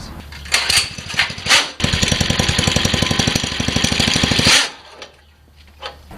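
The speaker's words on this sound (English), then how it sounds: "I'm going to turn it on just so you could hear what it sounds like when a clutch prematurely engages" A small mini bike or go-kart engine with a clutch that engages too early chugs in a fast, loud, even throb for a few seconds, bracketed by sputtering revs and brief starts and stops.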